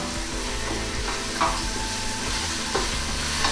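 Onions frying in hot oil for bagara rice, a steady continuous sizzle with occasional soft stirring scrapes, close and even throughout.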